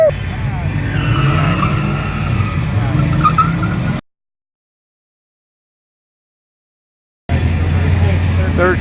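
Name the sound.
cars in a quarter-mile drag race, tires squealing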